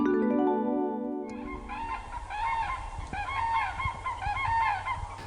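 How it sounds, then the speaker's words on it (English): Calls of the common crane at Hengshui Lake in China: after a sustained tone at the start, loud, honking, trumpeting bird calls repeat in overlapping bursts, close and clear over faint background noise. "I think that sounds just like the call of the common crane"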